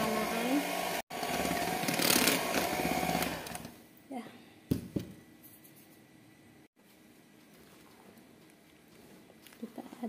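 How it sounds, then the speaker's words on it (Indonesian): An electric hand mixer runs steadily through jackfruit sponge cake batter, a loud whirring buzz that cuts out after a few seconds, leaving quieter clatter and background noise. "Kita mixer perlahan lagi ya."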